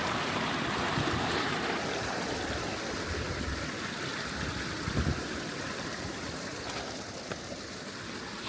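Steady rushing and babbling of creek water flowing, close and continuous, with no voices.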